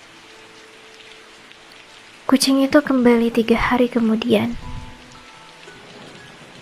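Light drizzle falls in a steady, soft hiss throughout, with a spoken narration voice rising over it midway before the gentle rain carries on alone.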